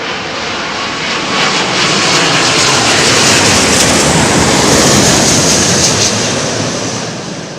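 A large airliner lands on the runway at London Heathrow, its broad engine roar and rushing noise building loudly and steadily, peaking midway, then slowly easing off near the end, with no voices.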